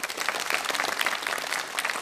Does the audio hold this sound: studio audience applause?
yes